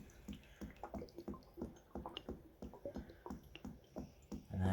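Water glugs and bubbles inside a backyard animal waterer, a run of quiet irregular gurgling pulses close by, with a faint rustle near the end.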